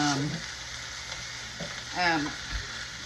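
Pork tenderloin sears in a hot pan with a constant hiss and crackle, close by; brief bits of a voice poke through the sizzle.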